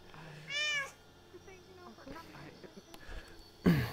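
A cat gives a short, clear meow, then a second louder one near the end, with quiet talking and rustling in between.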